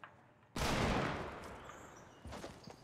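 A hunting rifle shot fires in a video game, one loud sharp blast with a long decaying tail, followed a moment later by quieter secondary cracks.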